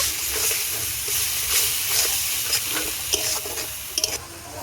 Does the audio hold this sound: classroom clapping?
no